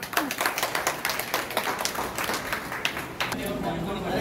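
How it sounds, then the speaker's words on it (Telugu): A group claps at a Vinayaka Chavithi laddu auction, a quick patter of hands that fades after a few seconds into room noise, with voices underneath. "క్లాప్."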